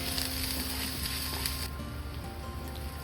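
Garlic, ginger and cardamom frying in a pan for a Sri Lankan prawn curry, a soft steady sizzle and crackle heard close up with no talking.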